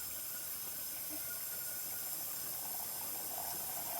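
Shower water runs steadily in a bathroom, a constant faint hiss with no breaks and no talk.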